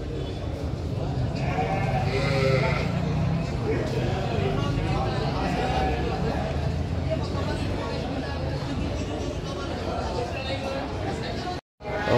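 Sheep bleat over a busy crowd hubbub at a livestock market in Tanjungsari, Sumedang, with several calls rising above the steady babble while someone talks nearby.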